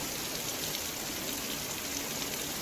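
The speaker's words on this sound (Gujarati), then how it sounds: "વડિયામાં અને આસપાસના વિસ્તારોમાં ધોધમાર વરસાદ આજે છે" Dense, steady hiss of heavy monsoon rain pouring down in Vadia, Amreli district, Gujarat, an even wash of sound with no voices.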